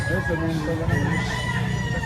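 A roughly year-old rooster at a poultry market in Lipa, Batangas crows nearby over a dense bed of crowd noise and background chatter.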